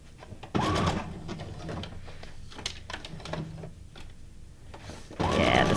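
A sewing machine stitches the pages of a handmade Halloween journal, running in steady mechanical bursts at the start and end with quieter handling sounds between.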